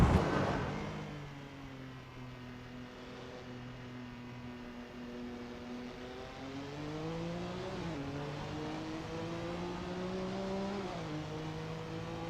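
Porsche 962C Longtail race car engine in the Assetto Corsa sim during practice, a steady droning tone heard from inside, pitch rising slowly through the gears with small shift dips, alone with no talk.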